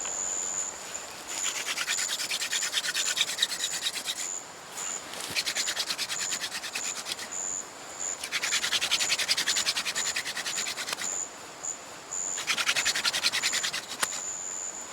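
A hand-spun wooden fire drill works against a hearth board to make friction fire at a jungle camp, a close, steady rasping rub in repeated bursts separated by short pauses.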